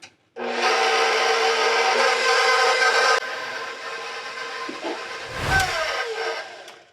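Butter, eggs and salt for cinnamon roll dough being mixed with an electric mixer: a loud, steady motor whir with a droning hum, easing slightly after a few seconds, then a brief bump as the mixing continues.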